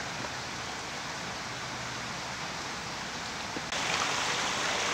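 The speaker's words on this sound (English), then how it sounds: "Now you can get the effect of the water sound a little better as I drew closer in." Water spills steadily over a garden pond waterfall, a continuous broadband rush heard close, growing slightly louder near the end.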